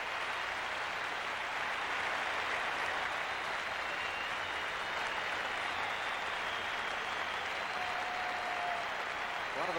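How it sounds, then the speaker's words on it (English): Stadium crowd at an NFL game in St. Louis giving a player a standing ovation, a steady distant wash of applause and crowd roar holding at an even level throughout. "So crowd loves him. He's getting a standing ovation."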